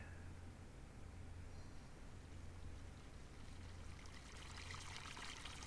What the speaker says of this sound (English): my water sound is way over here